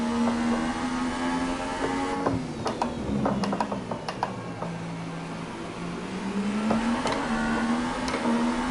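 A steady Formula 1 racing car engine drone in the video game F1 2018 at Bahrain, with a sustained tone that dips lower and then climbs again, overlaid by scattered mechanical clicks and ticks.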